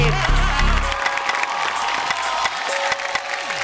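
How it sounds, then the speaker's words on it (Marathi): An audience at a women's game show applauds and cheers loudly, with dense clapping over background music and fragments of speech. "एकदा जोरदार टाळ्या होऊन जाऊ दे."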